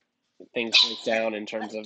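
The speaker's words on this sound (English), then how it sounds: "and that's my dog" A pet dog gives short barks and yips indoors, partly mixed under a man's conversational speech on a call.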